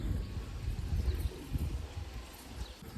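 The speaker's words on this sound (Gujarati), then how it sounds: "આ કબૂતર જો આપણા કરણભાઈનું આમ જો કેવી બનતી જાય કબૂતરી છે" Pigeons cooing in a low, soft, repeated rumble close by, the throaty calls pulsing in short rhythmic bursts over faint background noise, with no talking.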